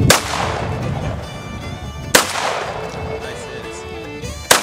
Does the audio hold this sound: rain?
no